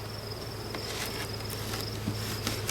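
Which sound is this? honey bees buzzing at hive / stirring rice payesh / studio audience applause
honey bees buzzing at hive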